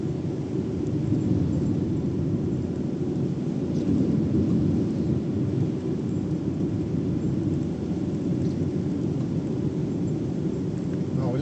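Rain falls steadily during a thunderstorm along a provincial road, a dense low rumble and hiss that stays constant throughout, with no distinct thunderclaps standing out.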